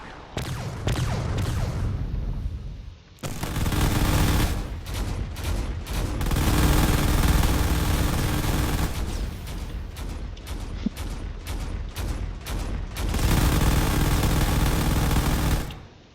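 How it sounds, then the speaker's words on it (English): A video game drone blasts away with all of its weapons: long, loud barrages of rapid fire in several extended bursts, broken by short pauses and rattling impacts. "He's firing away with everything he's got, taking all these weapons."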